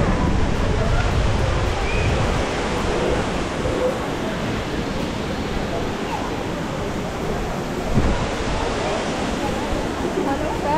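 Waterfall spray at Parque Tanguá, a dense steady rushing wash of falling water that fills the whole clip, loud and close with no break.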